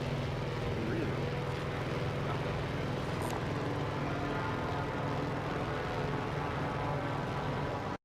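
An airplane engine drones in the Warzone Pacific video game on the Caldera map, a steady, even roar that holds at the same level throughout and cuts off abruptly at the end.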